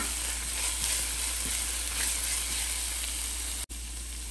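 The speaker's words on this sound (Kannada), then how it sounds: "ಇದು ಹಸಿ ವಾಸನೆ ಹೋಗೋ ತನಕ ಸ್ವಲ್ಪ ಫ್ರೈ ಮಾಡ್ಕೊಳ್ಳೋಣ" Kurma masala paste frying in a pan to cook off its raw smell, a steady close crackling sizzle with faint stirring scrapes throughout, cut by a short dropout near the end, no voices.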